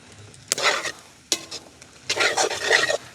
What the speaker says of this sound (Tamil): ஒரு கொஞ்சம் கொஞ்சமாக சேர்த்து நாங்கள் பிரட்டுவோம்